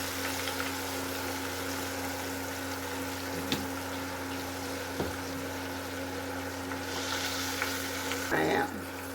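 Battered pig feet, two pounds of them, fry in hot oil with a steady bubbling sizzle, close and continuous, broken by a few sharp pops and a brief clatter near the end.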